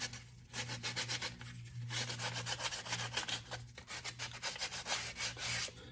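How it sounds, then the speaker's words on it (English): Rhythmic back-and-forth rasping as the sharp edges of a cast shoulder bell piece are smoothed down, close and steady in rapid strokes with short breaks, no speech. "Just sometimes the casting has a little bit of sharpness to it. Smooth it out a tiny bit."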